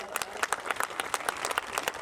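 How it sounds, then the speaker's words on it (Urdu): Scattered clapping from an audience at a political workers convention in Layyah, a quick uneven patter of many hands at moderate distance, brief and without voices. "میں آپ سے ریکویسٹ کروں گا اس کے لیے ضرور تالیاں بجا دیں"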